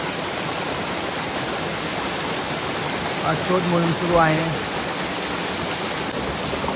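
Forest stream water running at night in the Sahyadri hills, a steady broadband rush heard close throughout, with people talking over it partway through.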